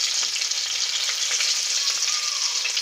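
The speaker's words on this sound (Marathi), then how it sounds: "त्यानंतर मी हा लसूण ठेचून घेतलेला आहे तो टाकते" Crushed garlic, cumin and mustard seeds sizzle in hot oil in a pan, a steady, loud, bright hiss and crackle heard up close with no speech.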